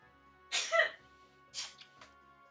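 Two quiet sneezes indoors, the first fuller and the second a shorter burst about a second later, with a faint third breathy puff.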